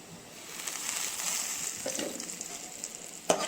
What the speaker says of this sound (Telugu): దీన్ని కూడా 1 నిమిషం అలా వేయించుకుందాం